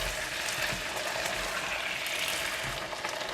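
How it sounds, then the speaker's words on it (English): Water spinach with sugar is stir-fried in a hot pan, giving a steady, close sizzle with soft scraping and stirring noises throughout and no voices. "We will stir it for just a couple of times until the water spinach is slightly soft"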